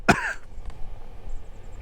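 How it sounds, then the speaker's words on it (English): A single sharp cough after exhaling cannabis smoke, close and abrupt, followed by quiet breathing and faint background noise. "the weed was pretty much fully exhaled, and then a couple of beats later I started coughing."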